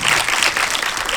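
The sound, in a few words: audience applause at a film premiere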